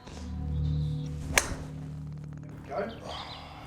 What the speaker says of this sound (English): Look at that, ball hit out of range.